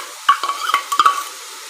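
Tomato paste stirred into masala in a pan over low heat for urad dal vada curry, a few close, distinct scrapes and pushes with a light sizzle between them, no talk.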